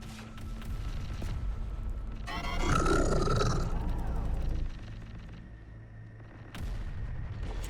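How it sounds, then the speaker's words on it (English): Artillery fire in the video game Terminator: Dark Fate - Defiance, skirmish mode, a heavy rumbling roar of shelling that swells to a loud burst in the middle before settling into a low continuous drone, with a voice briefly over it. "We are blasting artillery, but it's extremely inaccurate"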